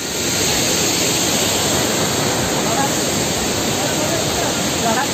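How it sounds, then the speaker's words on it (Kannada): Abbey Falls, a large two-stage waterfall in Coorg, Karnataka, seen during rain, gives a loud, continuous, even roar of rushing water. "ಹೊರಡಕ್ಕೆ ಇಷ್ಟ ಇಲ್ಲ, ಅಷ್ಟು ಚೆನ್ನಾಗಿದೆ ಅಬಿ ಫಾಲ್ಸ್."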